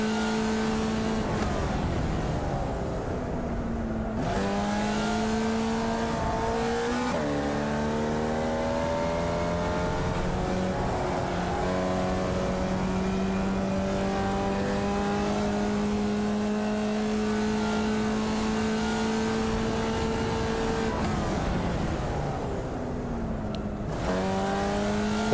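A Formula Vee race car in iRacing at Tsukuba drones steadily through a hot lap, its engine note rising through the gears with brief dips at shifts and no talk over it.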